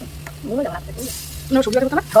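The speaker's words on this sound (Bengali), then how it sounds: "এইভাবে অল্প তেলে রান্না" Palm fruit pitha frying in a small amount of oil, a steady close sizzle with crackling bursts as the batter cooks, under a woman's speech.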